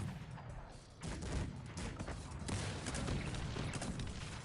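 Cannons in the strategy game Cossacks boom in a rapid, overlapping volley of blasts that continues without pause, battering mines.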